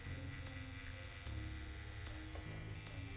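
An electric hair clipper buzzes steadily during a wave cut and light taper, a low continuous hum with brief clicks as the clipper is turned over and moved through the hair.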